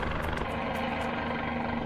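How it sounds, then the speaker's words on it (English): A Guimbal Cabri helicopter flies in Microsoft Flight Simulator, its rotor and engine a loud, steady drone with a rhythmic blade chop pulsing several times a second. "So you can see my helicopter is shaking about."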